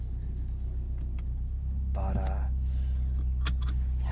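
A 2021 Mini John Cooper Works GP drives along with a steady, loud low engine and road rumble throughout, while someone talks over it.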